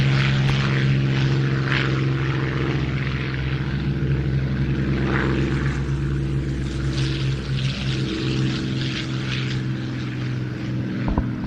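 Piston-engine warbirds, a Hispano Buchon and a Supermarine Spitfire V, drone loudly and continuously at an airshow, their propeller roar sustained and near throughout without speech.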